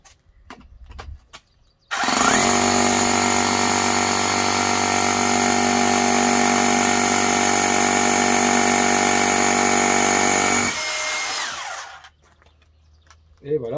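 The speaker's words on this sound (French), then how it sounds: "Perçage en diamètre 8 pour vous montrer." A Bosch GBH 18V-34 CF cordless hammer drill bores an 8 mm hole, running loud and continuous for about nine seconds with a steady motor whine before spinning down, with brief handling noises before and after.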